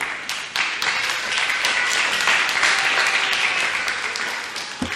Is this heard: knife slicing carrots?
no